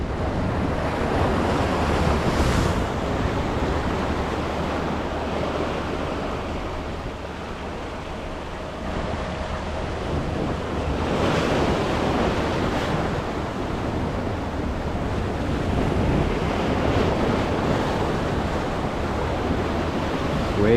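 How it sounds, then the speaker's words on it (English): Choppy ocean waves wash and slap around a fishing boat in steady wind, with continuous broadband surf and gusty wind buffeting the microphone, swelling louder every few seconds; no one talks. "Waves are getting choppy."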